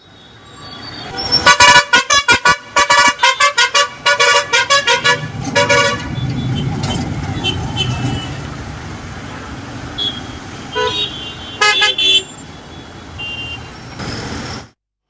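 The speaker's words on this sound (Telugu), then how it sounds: "నాచుకుంట టోల్గేట్ వద్ద కూడా భారీగా ట్రాఫిక్ జామ్ అయింది." Heavy festival-rush traffic jam at a toll gate on the Hyderabad–Vijayawada highway, with repeated loud horn blasts from cars and buses in quick rhythmic bursts over a steady rumble of idling and crawling vehicles, plus a few later honks.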